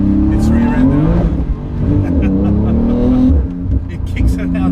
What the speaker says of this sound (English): It's got such an awesome exhaust note.